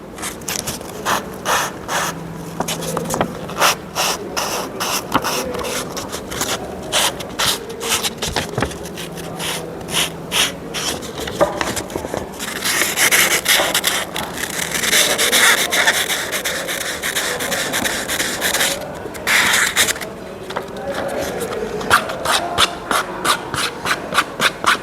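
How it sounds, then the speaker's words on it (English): A snooker cue tip has its sides ground with quick, repeated rasping and scraping strokes, close and crisp, in short bursts with brief pauses between. "So you could also just grind the sides like this."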